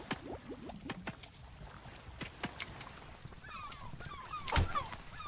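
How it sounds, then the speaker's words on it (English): Bird honking in the ocean survival game Oceaneers, several short goose-like honks scattered over a soft water and creaking background, with a louder burst near the end. "kick that bird out of here"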